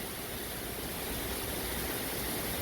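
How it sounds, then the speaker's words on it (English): Heavy torrential rain from Tropical Storm Claudette on Dauphin Island, a dense, constant roar of downpour filling the air with no break and no voices. "Heavy, torrential rain,"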